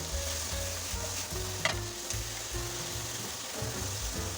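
Pork and kimchi stirred and frying in a pan for miso ramen, a steady close sizzle with scraping stir strokes throughout and one sharp clink partway through.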